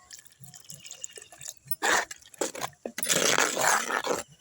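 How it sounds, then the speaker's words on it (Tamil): Water splashes and gurgles into a cooking pot of sundaikkai kootu in short bursts, ending in a longer pour, close and fairly loud. "கொஞ்சம் தண்ணி ஊற்றிக்கலாம்"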